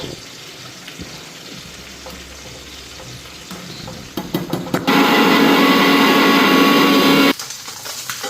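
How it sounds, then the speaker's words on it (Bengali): Prawns frying in a pan, with quiet stirring and scraping at first, then a loud, steady sizzle swelling up from about four seconds in and holding for several seconds before dropping back to a softer crackle. "তো ওইদিকে মাছগুলি সব ভাজা হয়ে গেছে"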